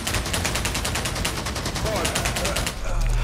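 Rapid bursts of gunfire in the VR shooter Pavlov VR, a dense run of sharp repeated shots for most of the stretch, ending in a heavier low thud, with some voice mixed in.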